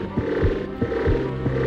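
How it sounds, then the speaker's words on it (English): A game heartbeat effect from the PS1 title MediEvil throbs in slow, evenly spaced double beats over a low hum, close and soft. "I love the sound effect of the heart beating in this game."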